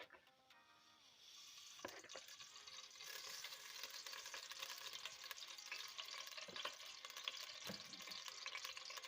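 Ghee heats in a cooking pot for lobia curry, starting quietly, then breaking into a steady, close, hissing sizzle with faint crackles that continues to the end.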